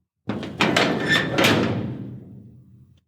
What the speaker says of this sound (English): she blocked my path and then bolted the door